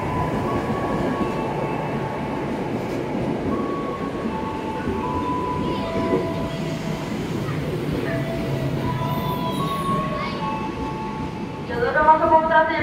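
KRL commuter electric train, unit 6007, running toward Jakarta Kota on the Jakarta–Depok line, passing close by with a steady loud rumble and whining motor tones. A brief squeal rises near the end.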